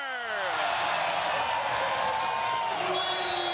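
Basketball arena crowd at a CEBL game erupting into cheers, whoops and applause after a fourth-quarter drive, a loud building roar with sliding tones from the venue sound system underneath.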